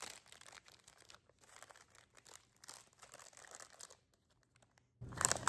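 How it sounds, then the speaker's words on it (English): Crocheted gummy bears in a bag being tucked into a plastic Ziploc, with close crinkling and rustling of plastic in uneven bursts, a pause, then a louder crunch at the end. "I'm gonna put this bag in the Ziploc so they don't dry out."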